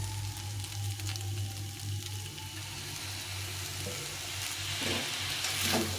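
Leftover rice with vinegar being stir-fried for fried rice, a steady close sizzle with occasional stirring scrapes and a brief louder clatter near the end, no talking.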